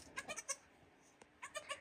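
Newborn goat kids bleating softly nearby in a series of short, high, wavering calls in two bursts with a pause between.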